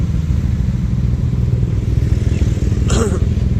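A motorcycle rides along a road with a steady, loud engine drone and rushing wind, close and continuous throughout, with a brief faint sound near the end.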